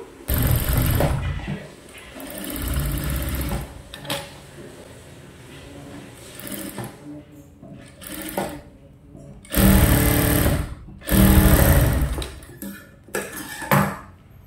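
An electric sewing machine stitches the neckline of a princess-cut blouse in several bursts of rapid mechanical whirring and clatter, with pauses and softer handling sounds between runs.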